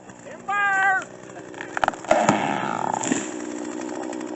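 A tree cut with a chainsaw cracks and crashes to the ground, a splintering burst followed by a rolling rumble, after a brief chainsaw whine.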